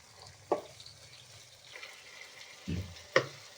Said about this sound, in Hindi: अब तकरीबन हम इसको 1 मिनट इसको भी भून लेंगे